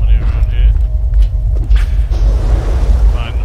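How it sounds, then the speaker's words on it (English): Deep booming earthquake rumble from drilling in the video game Borderlands 2, a loud continuous low-end roar with occasional creaks and mechanical clanks, and game voices faintly over it. "The sound of those earthquakes marks my drills getting closer and closer to the vault."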